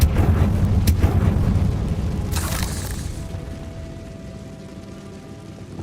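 A Confringo fire spell blast in Hogwarts Legacy: a loud, low booming burst up front with a sharp crack, rolling down into a fading rumble and a quiet tonal hum.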